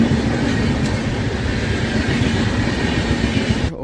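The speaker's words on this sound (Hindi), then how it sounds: "बाकी लोकल ट्रेन यही चल रही है पास में" A local commuter train in Delhi passes close by, a loud continuous rumble and clatter of wheels on track holding steady throughout before cutting off abruptly at the end.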